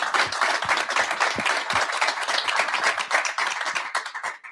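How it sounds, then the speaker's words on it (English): A crowd claps and cheers at a Buffalo Sabres and NHL news conference at KeyBank Center, steady dense applause filling the room for several seconds before tapering off. "We love the cheers."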